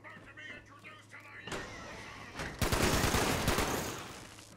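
Rapid automatic turret gunfire in the video game Fallout 76, starting mid-clip and intensifying into a loud, dense stream of shots after quieter game sounds and faint talk.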